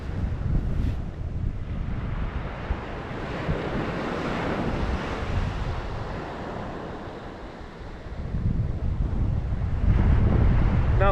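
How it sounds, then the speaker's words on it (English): Strong wind blows across a sandy beach beside the sea, with dunes and a sea defence nearby, roaring steadily over crashing surf with gusts rising toward the end. "The wind is coming straight from that direction."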